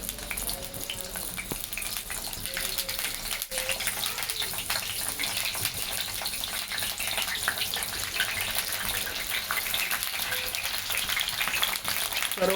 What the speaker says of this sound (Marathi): आपण आता वांग्याचे काप टाकणार आहोत.